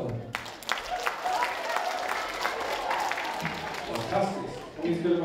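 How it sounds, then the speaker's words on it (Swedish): A theatre audience at Christinateatern applauds steadily, a full wash of clapping with some crowd noise and voices mixed in, holding at an even level throughout. "Ge själva en liten applåd."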